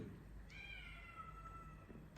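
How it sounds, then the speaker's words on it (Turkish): A cat meows from outdoors in a long, drawn-out, crying call, faint and distant over steady background hiss. "dışarıdan miyavlıyor"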